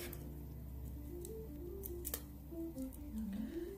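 Retractable pencil packaging is torn open by hand, with close, quiet crinkling and sharp ripping snaps that rise and fall over a few seconds.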